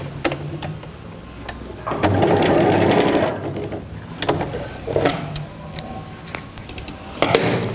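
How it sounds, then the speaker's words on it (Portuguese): A sewing machine stitches a crystal plastic zip pouch lining in short bursts, with one longer whirring run and clicks and handling noises between. "eu vou lá pra máquina e vou fazer uma costura aqui"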